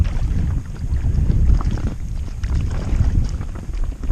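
Gusty wind buffets the microphone while someone paddles an inflatable kayak on open water, a loud low roar that swells and fades over a few seconds with faint paddle and water sounds beneath.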